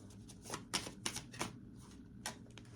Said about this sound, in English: It just shuffled and it came out.